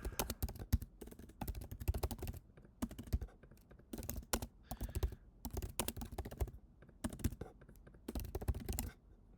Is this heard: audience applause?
no